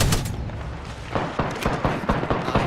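Repeated Triple Take rifle shots in Apex Legends, a series of sharp cracks from about halfway through, spaced in an uneven rhythm over a steady rumbling game background.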